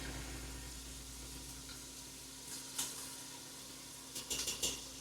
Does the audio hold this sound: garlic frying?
yes